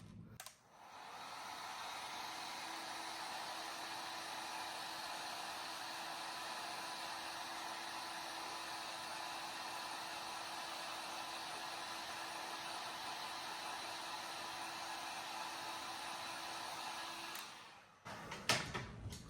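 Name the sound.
heat gun heating plastic action figure boot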